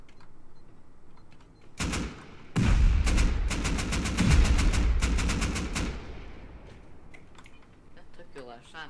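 Rapid bursts of automatic gunfire in the survival game Rust, a loud dense volley of repeated shots with a heavy explosive thump partway through, fading to quieter sounds near the end.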